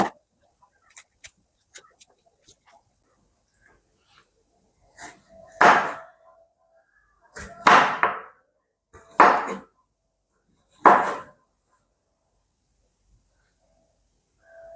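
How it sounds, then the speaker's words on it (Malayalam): Knife slicing bitter gourd lengthwise on a cutting board for pickle, heard as a few separate sharp chopping knocks spaced a second or two apart, close and fairly loud, with small faint clicks in between and no talk. "അതിനായി പാവയ്ക്ക നമുക്ക് നീളത്തിൽ അരിഞ്ഞെടുക്കാം."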